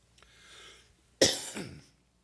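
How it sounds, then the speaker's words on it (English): A single sharp cough bursts out after a soft breath, close and loud, trailing into a brief rasp. "I've got a little cold here, so I'm going to be coughing from time to time."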